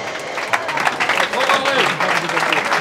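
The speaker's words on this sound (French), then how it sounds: "vous pouvez applaudir le coach" A crowd at a handball club's season launch claps and applauds the coach steadily, with a voice talking over the clapping throughout.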